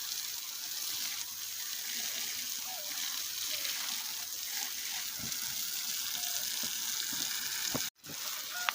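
Steady hiss of water running from a hose onto garden plants in a yard, continuous and even for several seconds, with a brief cutoff and a few faint clicks near the end.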